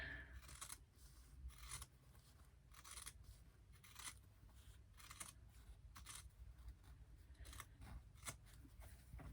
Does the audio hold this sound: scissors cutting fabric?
yes